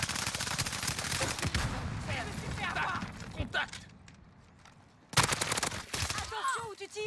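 Gunfire in Call of Duty Warzone comes in dense bursts of rapid automatic shots, drops off for a moment, then returns loud, with voices talking between the shots.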